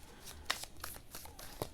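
Tarot cards being shuffled make soft, quick riffling and flicking bursts, a few crisp slaps among faint papery rustling, close but quiet.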